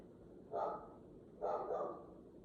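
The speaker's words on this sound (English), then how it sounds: "I don't really want my dog barking right now" A dog barks twice in the distance, two faint, muffled woofs about a second apart over quiet room tone.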